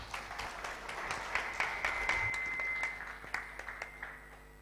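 Scattered audience applause at the West Africa Media Excellence Conference and Awards for the executive director, modest and somewhat distant, with uneven claps in a large room.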